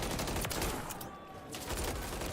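Rapid automatic pistol fire from dual pistols in Call of Duty: Modern Warfare III, dense bursts of gunshots with a short lull in the middle before firing resumes.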